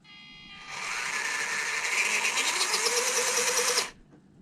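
A small electric motor in a Hobby Plus CR-18 Toyota Land Cruiser 1/18 RC crawler whines steadily under throttle for about three seconds, close and fairly quiet, rising slightly before cutting off abruptly.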